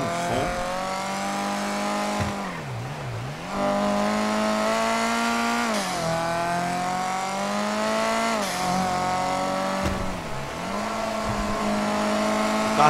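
Loud, continuous car engine from a street race in GTA RP, droning steadily with repeated dips and rises in pitch as it revs and shifts, alone without talk.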